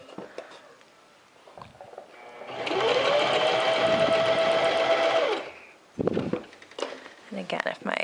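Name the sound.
sewing machine stitching bias binding on an armhole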